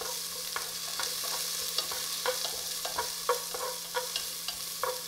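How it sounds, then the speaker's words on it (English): Okra fries in about a tablespoon of oil while being stirred, making a steady hiss of sizzling with regular light scraping clicks from a utensil against the pan. "I put about 1 tablespoon of oil. And then you just want to keep stirring."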